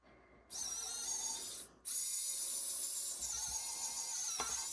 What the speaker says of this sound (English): we're just going to re-drill these because we did end up getting resin in our holes